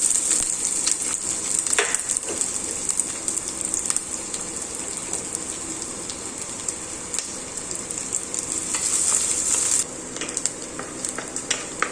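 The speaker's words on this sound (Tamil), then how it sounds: "எண்ணெய் நல்லா காஞ்சிருச்சு. ஸோ நான் இப்போ அதில் ஆனியன்ஸ் போடுறேன்." Sliced onions sauté in hot oil for egg Maggi noodles, giving a steady, close hiss of sizzling with occasional stirring scrapes and clinks, louder near the end.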